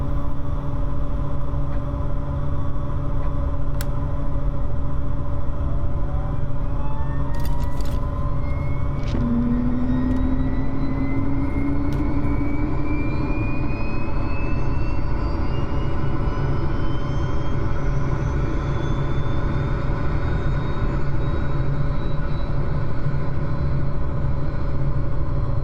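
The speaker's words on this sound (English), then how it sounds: "Engine start." Aircraft engine spooling up in Microsoft Flight Simulator 2024, a constant low rumble with a rising whine climbing steadily in pitch, continuous and fairly loud throughout.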